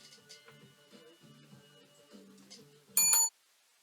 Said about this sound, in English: Besides the fact I like the bell.